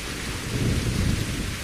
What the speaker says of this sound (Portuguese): abaixa o som da chuva